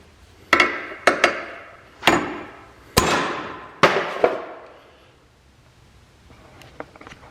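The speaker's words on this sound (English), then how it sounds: "So we're gonna take a hammer and beat on it and see how it goes" A hammer strikes a welded metal paramotor carrier frame on a cluttered workbench, sharp ringing blows landing singly and in pairs, about seven hits spread over five seconds with a short decay after each.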